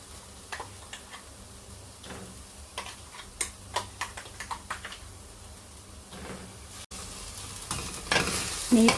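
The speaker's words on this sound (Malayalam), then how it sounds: "ഈ പേസ്റ്റും കൂടെ ഇതിൻ്റെ കൂടെ ചേർത്തിട്ട് നന്നായിട്ടൊന്ന് വഴറ്റി കൊടുക്കാം" Ground spice paste is stirred and sautéed with onions in a pan for a chicken curry. Scattered spoon scrapes and clicks sit over a soft sizzle, and the frying grows louder toward the end.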